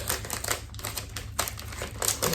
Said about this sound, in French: Je vais le remettre dans son emballage pour pas l'abîmer.